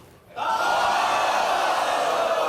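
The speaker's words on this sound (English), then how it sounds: "Crowd just can't believe it." A studio audience at The Jerry Springer Show erupts suddenly into loud, sustained crowd noise of shouting, whooping and jeering, rising sharply from quiet and holding at full volume.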